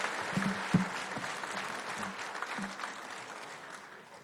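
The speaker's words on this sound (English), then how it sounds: "all I'm going to ask is an applause for all the inductees" Applause for Hall of Fame inductees at the Carson Colts ceremony, a steady patter of many hands clapping through the room, moderately distant, with a few louder claps near the start.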